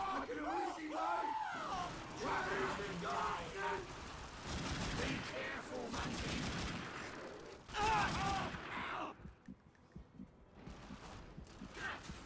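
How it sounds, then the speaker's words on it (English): Rapid gunfire in The Darkness II, dense bursts of shooting mixed with game shouts and yelling, fairly faint overall, fading to scattered shots near the end. "I'm taking heavy fire."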